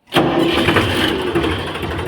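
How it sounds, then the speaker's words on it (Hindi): A Powertrac 439 45 HP tractor engine catches and runs, a close, steady diesel rumble with a faint starter whine at the outset, continuing evenly without speech. "एक बार आपको मैं इस ट्रैक्टर की आवाज़ और सुना देता हूँ भाई"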